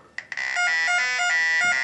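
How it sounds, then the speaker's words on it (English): A TPI Model 753a refrigerant leak detector gives a couple of short beeps, then sounds a loud, continuous high-pitched warbling alarm tone as its tick rate increases. "and the alarm goes off, and the tick rate increases"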